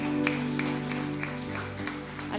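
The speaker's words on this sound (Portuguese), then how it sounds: "vamos aplaudir mais forte nosso Deus" A church congregation claps during a live evening worship service, the steady applause continuing under voices and background music, fairly loud and sustained throughout.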